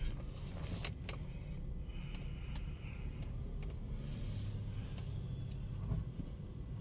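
A Ford EcoSport or Fiesta dual clutch transmission runs its adaptation learning function while parked with the brake held: a steady low mechanical hum and rumble with faint clicks and whirring.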